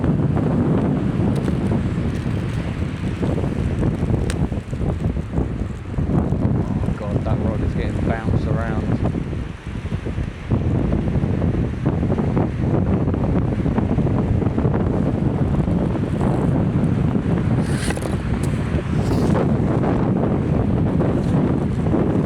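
Strong 35 mph wind buffeting the microphone at a fishing spot by the sea, a continuous heavy roar with gusty swells. Waves sound underneath, and faint voices come through at times.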